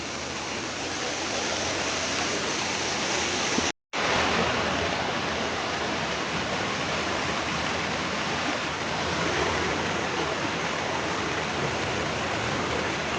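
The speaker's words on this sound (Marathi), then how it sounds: "इथेच आमचा वॉटरफॉल. कसला भारी वाटतंय बघा" A small village waterfall in the Konkan countryside, fed by water from a culvert, pours with a steady, dense rushing roar that fills the scene, broken only by one brief dropout near the start.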